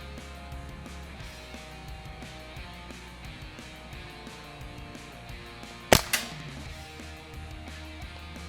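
A single sharp crack rings out from an Umarex CO2 airgun firing .177 pellets at a swinging target 30 yards away outdoors, followed by a quick fainter knock, against a quiet background.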